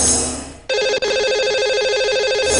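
A telephone rings out on a call placed to a lucky caller during a broadcast, loud and near: one long ring tone, a brief break, then a second sustained ring.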